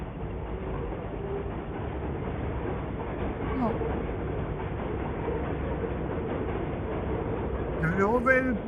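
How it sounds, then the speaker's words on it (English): An elevated subway train passes on the street in Washington Heights, Manhattan, a steady rumbling rail roar that holds through the whole stretch, with a brief squeal near the end and a voice talking over it. "An elevated subway train."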